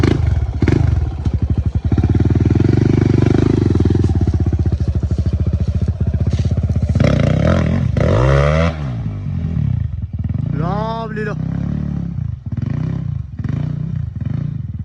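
Enduro motorcycle at a motocross and enduro race in Pokhara, engine revving loud and close with rapid rising and falling pitch sweeps, clattering and thumps under it, no voices.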